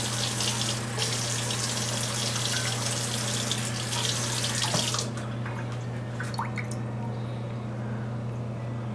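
Water is added to the pan for a pork steak donburi sauce in a home kitchen. A close, steady hiss of pouring lasts about five seconds and then stops, over a constant low appliance hum, with no talking.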